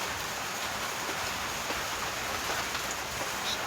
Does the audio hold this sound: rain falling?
yes